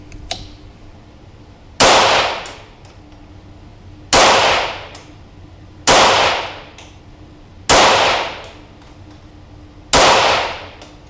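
Five sharp gunshots from a .22LR rifle firing budget Top Shot cartridges, evenly spaced about two seconds apart, each a loud crack with a short fading ring, no talk between them.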